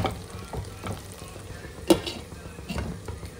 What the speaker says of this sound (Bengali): আলুগুলো দিয়ে দিলাম, নাহলে আলুগুলো সেদ্ধ হবে না।